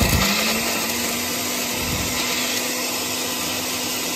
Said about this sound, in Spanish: Y esto lo llevo a moler a la licuadora.